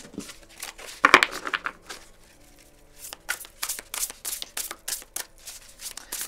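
Tarot cards shuffled for a reading: a loud, close riffle burst early on, then a run of quick, crisp card flicks and shuffles in an uneven rhythm, with no talking.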